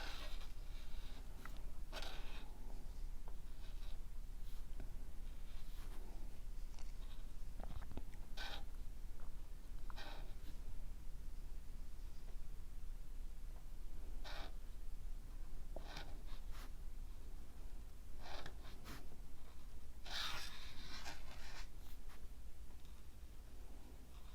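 A Karin Decobrush brush marker writes on paper, giving soft, close scratchy strokes in short bursts with brief pauses between them, quiet and alone without talk.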